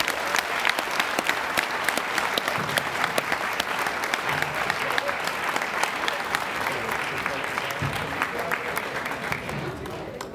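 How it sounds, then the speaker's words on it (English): A comedy-club audience claps steadily and loudly for a comedian, dense sustained applause lasting the whole stretch with a faint crowd murmur underneath. "Let's give him a big round of applause."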